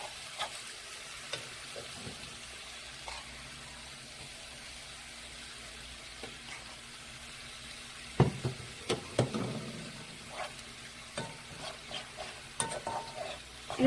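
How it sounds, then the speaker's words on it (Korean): Radish namul stir-fried in a pan with perilla seed powder gives a steady soft sizzle, then, partway through, louder close scraping and clinking of a utensil stirring in irregular bursts. No voices are heard. "들깨가루를 넣어서 볶아서 드셔도 되고요."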